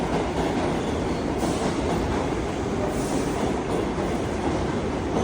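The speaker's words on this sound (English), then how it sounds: "So this is apparently my train is arriving here now." A train rumbling and clattering as it pulls into a station in New York City, steady and loud throughout, with faint squeals of wheels on rails.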